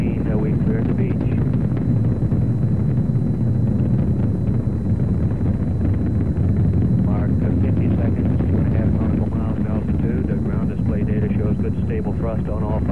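The five engines of a Saturn rocket roar in a steady, deep, continuous rumble during the Skylab 1 launch, heard from a distance with wind-buffeted noise and a broadcaster's voice speaking over it.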